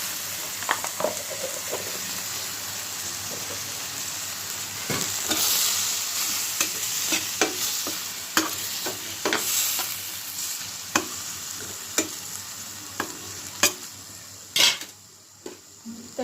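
Tomatoes with salt and turmeric fry in a pan with a soft continuous sizzle while a metal spoon repeatedly stirs and knocks against the pan in irregular clinks, close up and without talk.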